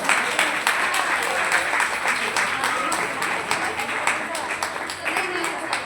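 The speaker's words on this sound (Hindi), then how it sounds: "दादी के लिए एक बार तालियां जोरदार।" An indoor audience gives a hearty round of applause for an elderly grandmother, dense continuous clapping close by with voices talking over it throughout.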